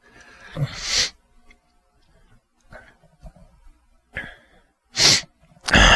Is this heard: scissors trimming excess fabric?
no